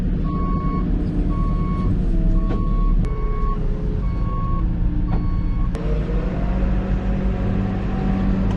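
Reversing beeps from a farm vehicle backing down a field margin during a wheat harvest, a steady run of evenly spaced high beeps sounding over a loud, constant diesel engine rumble throughout.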